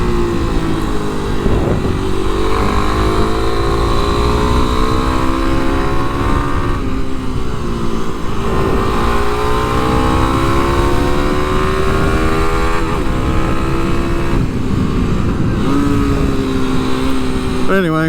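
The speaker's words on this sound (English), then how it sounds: "But anyway, you can hear the bike." A 2023 Kawasaki KLX300 SM single-cylinder motorcycle being ridden, its engine droning steadily with rising and falling revs throughout, wind rushing loudly, and a rider speaking now and then over the noise.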